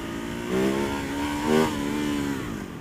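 A Ducati Hypermotard 939 motorcycle accelerates hard into a wheelie, its engine note climbing in two rising surges that carry steadily and loud close by with no talk over it.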